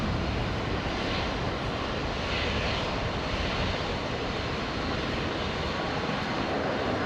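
A Rex airliner rolls for takeoff at Brisbane Airport, its engines a steady, broad roar that stays loud and even from start to finish with no talk.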